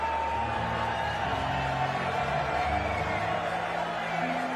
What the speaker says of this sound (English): still he wants more applause